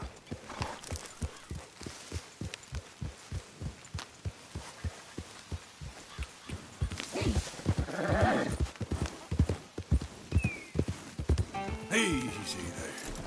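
A horse in Red Dead Redemption 2 gallops in a steady rhythm of hoofbeats, with a neigh midway and another near the end, while a voice speaks briefly over it.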